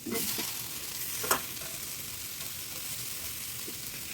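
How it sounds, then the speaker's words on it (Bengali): Boiled potatoes and yardlong beans fry in a pan, giving a steady close sizzle throughout, with a single brief scrape of stirring early on. "এবার এটাকে ভালো করে নাড়াচাড়া করবো আলুগুলো একটু ভেজে নেব"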